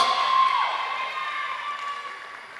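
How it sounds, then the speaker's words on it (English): Audience applause and cheering at a Jamaica versus Trinidad and Tobago netball match, a broad crowd wash that starts full and slowly tapers off over a couple of seconds. "Round of applause."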